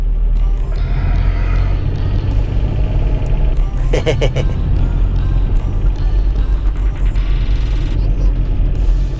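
A VW Golf driven with its engine running without oil, the gears changed slowly; a steady, loud engine drone with low rumble continues throughout, with a brief mechanical rattle partway through and no talk.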